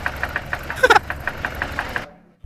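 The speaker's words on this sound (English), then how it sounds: "the knocking was actually only noticeable at idle" An idling BMW drift car engine, shortly before blowing up, taps out a steady, regular knocking rhythm up close, with a brief metallic clatter partway through before the engine cuts off.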